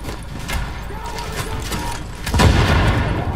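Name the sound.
gunfire in the video game The Division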